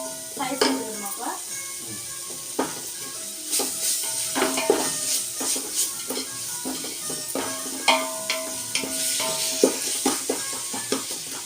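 Masala and mint leaves sautéing for hotel-style chicken biryani: a spoon scrapes and clatters against the pan in repeated strokes over a steady sizzle, loud and close.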